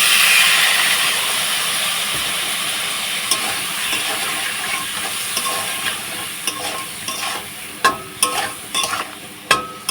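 Water splashed into a hot cooking pan on a home stove, giving a loud, steady steamy hiss and sizzle that slowly fades, with clattering stirs and scrapes toward the end.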